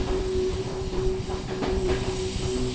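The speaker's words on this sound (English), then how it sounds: "The train continues its journey" A train running on rails during a sleep story, a steady rolling rumble with soft rhythmic clacks and a faint high squeal, continuous and fairly loud throughout.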